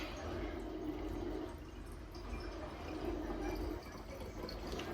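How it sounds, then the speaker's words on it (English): Homemade crabapple liquor is poured through a funnel into a container, giving a soft, continuous trickle and gurgle of liquid heard quietly and close by. "Let's pour this in here."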